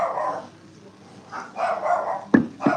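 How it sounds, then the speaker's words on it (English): Dogs bark outdoors in a few separate bursts, a cluster of rough woofs at the start and more mid-distance barking toward the end, with a sharp yip near the close. "what are y'all barking at?"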